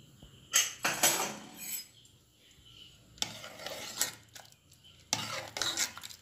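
A spoon scrapes and clatters against a metal pan of chickpea masala in three bursts of stirring, separated by short quiet pauses.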